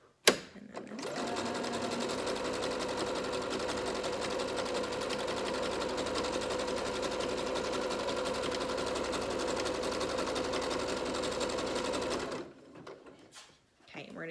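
A sewing machine stitching fabric for a homemade mask, running in one steady, fast, close mechanical whir for about eleven seconds before stopping, with a voice speaking briefly at the very end.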